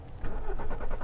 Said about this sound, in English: Refueled, the BMW starts with no fuss.